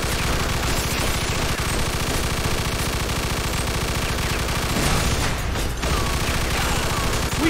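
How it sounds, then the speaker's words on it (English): Mafia II: Definitive Edition machine gun fire in a gangster shootout. Loud, close and relentless, sustained automatic bursts fill the whole stretch, with no talk. "Stop shooting that fucking thing! I'm going deaf over here!"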